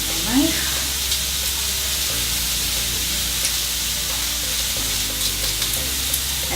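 Pressed garlic frying in a pan with mushrooms and bacon, a loud, dense, steady sizzle close up, with a faint background tone and no one speaking.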